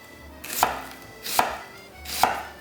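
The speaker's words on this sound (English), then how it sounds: "Half the onion, and then what you want is nice thin slices" A knife slicing half an onion into thin slices on a cutting board, with three distinct, evenly spaced chops that ring out close and crisp against a quiet kitchen.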